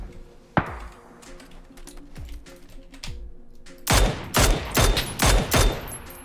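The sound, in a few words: gunfire from PUBG video game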